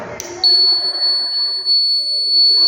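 A student-built rain detector alarm switched on gives a loud, steady high-pitched electronic tone that holds without a break after a short rustle.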